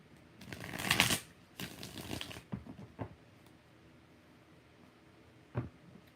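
Tarot cards being shuffled, with several bursts of crisp riffling and flapping early on, followed by a few sparse taps and a final soft knock. No speech is heard.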